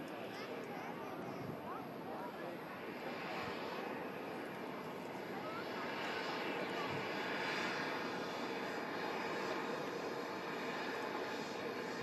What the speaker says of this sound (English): As the Emirates A380 is gear down on final approach into Manchester Airport.